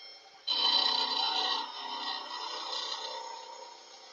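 A small piece of sandpaper rubs steadily over a wooden workpiece, giving a continuous dry scratchy rasp that starts abruptly and keeps going at an even level.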